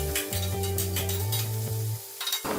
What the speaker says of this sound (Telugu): ఇవి వేసి 5 నిమిషాలు మూత పెట్టి మగ్గించుకోవాలి.